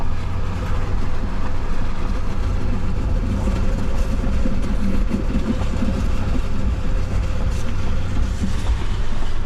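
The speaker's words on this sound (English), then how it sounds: "We're kind of just dragging the truck tires right along it." Heavy truck tires dragged laps around a race track give a steady, loud low rumble with a rhythmic rattling clatter running through it, unbroken, with no voices.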